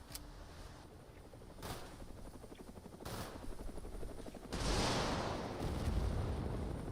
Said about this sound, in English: Helicopter incoming again.